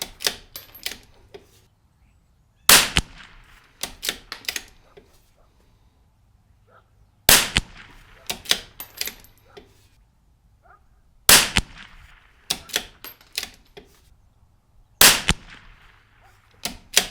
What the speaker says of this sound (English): Take our shots at 52 yards and see what we come up with here.